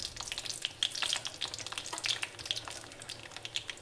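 Dried sundakkai vathal (turkey berries) sautéing in hot oil for a Tamil vathal kuzhambu, giving a steady close crackling sizzle with scattered sharp pops, no voices.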